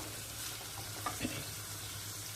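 Dried anchovies fry in a pan with a soft, continuous sizzle, fairly faint and even, with a couple of light utensil taps partway through and no talking.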